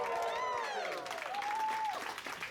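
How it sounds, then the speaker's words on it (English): Wedding guests clapping and cheering for the couple after their first dance, a short burst of applause with whoops and a sustained high voice riding over the crowd noise. "Can we please give them an absolutely massive round of applause?"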